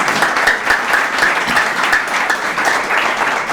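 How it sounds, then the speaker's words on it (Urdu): A church congregation in Sohar, Oman, breaks into loud, continuous applause, with many hands clapping close and lively and no voices over it. "آئیے خدا ان کے لیے زوردار تالیاں."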